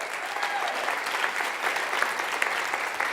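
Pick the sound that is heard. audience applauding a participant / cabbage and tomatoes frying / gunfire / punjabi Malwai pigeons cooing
audience applauding a participant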